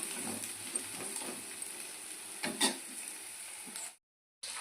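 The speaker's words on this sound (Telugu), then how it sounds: "కళాయి పెట్టి రెండు పావులు ఆయిల్ వేసుకొని ఉల్లిగడ్డలు పచ్చిమిర్చి వేసుకోవాలి వీటిని ఎర్రగా వేయించుకోవాలి" Sliced onions and green chilies fry in oil in a kadai for onion chutney, giving a steady close sizzle with a few stirring scrapes, then a brief cut to silence near the end.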